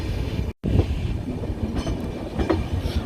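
Indian express train running on rails, a steady rumbling roll with faint clickety-clack, heard from aboard; a brief dropout interrupts it near the start.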